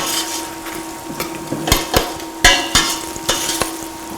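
Spoon stirring turmeric powder into a tamarind curry with brinjal in a metal pot, several sharp scrapes and knocks against the pan over a low steady simmer.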